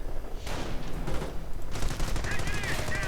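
Bursts of MP40 submachine gun fire in a World War II strategy game, rapid rattling volleys in several short clusters over battle noise, with a commentator's voice talking over it.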